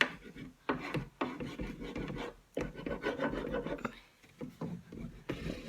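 A cloth rubs pure beeswax into a wooden IKEA plant stand in a dry, rasping scrub, close and fairly loud, in uneven strokes broken by brief pauses, with no talking.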